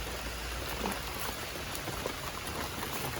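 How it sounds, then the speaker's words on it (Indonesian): Heavy rain pours steadily on a nighttime campsite, a dense, even hiss with scattered drops pattering close by, with no voices over it. "Hujan pun makin deras."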